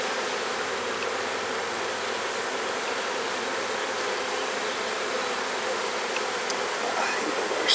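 Honeybees in a beehive make a dense, steady buzzing hum, close and unbroken from start to finish.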